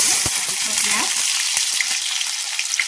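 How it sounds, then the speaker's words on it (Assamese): Chopped onions and a bay leaf fry in hot oil with a loud, steady, close sizzle and a few faint scrapes. "আৰু এতিয়া মই দি দিছোঁ এয়া পিঁয়াজ"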